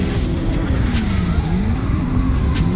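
Nissan S13 drift car in a drift battle at a DriftCup event, engine howling at high revs with a wavering pitch and tire squeal, loud and close throughout.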